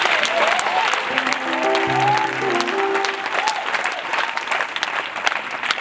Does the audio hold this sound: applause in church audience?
yes